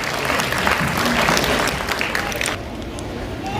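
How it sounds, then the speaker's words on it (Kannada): An audience at the Karnataka Media Academy's 2023-2024 award ceremony gives a burst of dense, loud clapping. It fades out abruptly after about two and a half seconds, leaving quieter room noise. "ದೊಡ್ಡ ಚಪ್ಪಾಳೆ"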